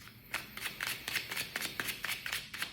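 Tarot cards are shuffled by hand, a quick rhythmic series of crisp riffling flutters close up, with no voice over them.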